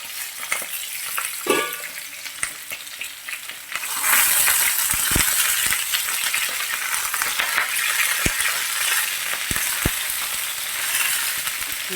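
Small grenaille potatoes frying in a pan, a few clinks and stirring at first, then a loud dense crackling sizzle with sharp pops and scrapes throughout, close up with no speech.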